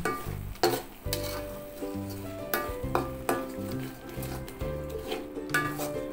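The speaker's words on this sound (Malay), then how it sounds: "Kacau lagi, goreng lagi sehingga garing." Food sizzling in a pan while being stirred, with repeated scraping and clanking of a utensil against the pan and occasional musical tones in the background.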